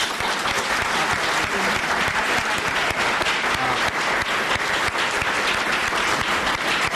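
A large audience at a US congressional conference applauds steadily and loudly, a continuous wash of clapping that stays even throughout.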